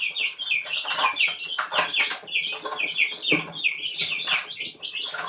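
A crowd of chicks peeps and cheeps constantly, high bright chirps overlapping close by with soft clucking beneath.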